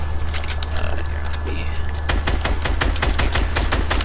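A player's gun in a video game fires a steady string of evenly spaced, loud shots in the second half, preceded by softer shooting and game ambience beneath a constant low hum.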